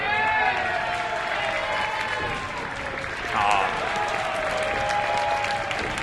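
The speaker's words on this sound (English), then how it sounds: "Nice applause from the Smash Wrestling fans here at the Rec Room" Wrestling fans at an indoor venue give a sustained round of applause mixed with crowd noise, while a commentator talks over it.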